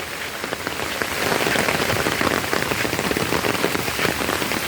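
Rain falls steadily outdoors, a dense near patter on surfaces that swells louder after the first second and stays heavy, with no voices.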